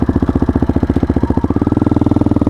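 A 2004 Yamaha Raptor 660R ATV's single-cylinder engine thumps steadily up close, its rhythmic pulses quickening slightly toward the end with no talk over it.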